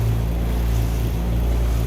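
A rubber boat rides out at sea, with a steady close motor drone and wind and water rumble running unbroken throughout, no voices.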